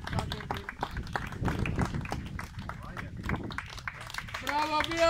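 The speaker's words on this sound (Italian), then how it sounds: "Un applauso per questi ragazzi" Crowd clapping for young racers after a Formula Junior Italian powerboat championship race at Viverone, a dense patter of claps running throughout beneath a loud announcer's voice.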